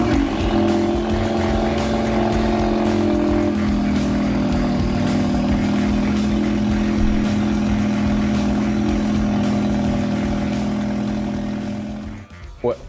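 A 2017 Ford Focus engine drones steadily at a constant pitch for several seconds, loud and close, then fades out toward the end with a brief clunk.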